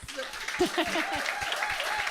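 Applause from a church congregation celebrating graduates, scattered clapping under a voice speaking and an excited shout.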